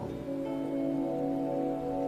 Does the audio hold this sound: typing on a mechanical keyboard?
no